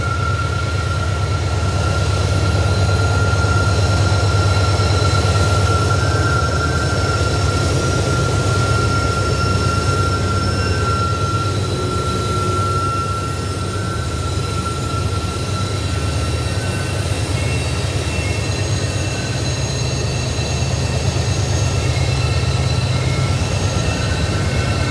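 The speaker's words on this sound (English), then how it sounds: "The next train up was an intermodal with NS 4242 leading" NS 4242, a converted AC44C6M diesel leading an intermodal freight train, rumbles past on Horseshoe Curve in Altoona, a loud, constant low engine drone with a steady tonal whine that holds unbroken for the whole stretch.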